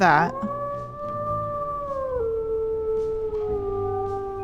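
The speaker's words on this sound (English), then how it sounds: "He's even got a really sad howl" A wolf in the WolfQuest video game lets out a long, mournful howl with gliding, sustained tones that step downward, loud and close, lasting the full stretch after a brief opening yelp.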